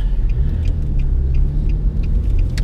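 A car driving through heavy traffic at the Jersey Shore, with a steady loud engine and road rumble throughout from inside the vehicle.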